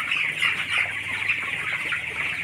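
A twenty-day-old chick peeps and clucks in quick, repeated high calls close by, with a few other fowl sounds mixed in and no talking.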